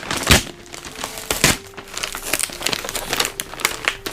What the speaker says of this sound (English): This is heavy, so I don't know if you can see me opening the paper here.